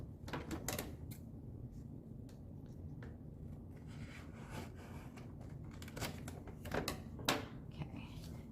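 Cardboard for a magazine holder is cut with irregular sharp scraping snips and crinkling bursts, a few clustered near the start and more toward the end, close and moderately loud with no talking.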